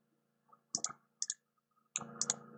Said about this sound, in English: just click on cancel.